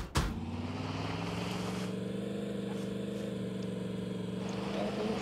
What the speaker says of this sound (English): get in the go kart